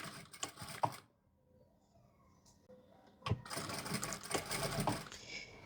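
A sewing machine back-stitches muslin dress fabric in two bursts of stitching separated by a quiet pause while the fabric is adjusted.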